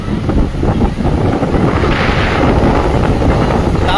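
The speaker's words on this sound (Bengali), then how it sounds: "প্রচন্ড হাওয়া," Strong wind blasts across the microphone at the Digha seashore, a loud, continuous rumbling roar with faint surf underneath, steady for the whole stretch with no talking.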